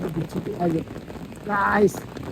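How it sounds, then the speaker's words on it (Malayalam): Rain patters steadily in the background at Thusharagiri waterfall while voices speak briefly over it, the shower sounding light and fairly close. "ഞങ്ങൾ ചെറിയൊരു മഴ കിട്ടി"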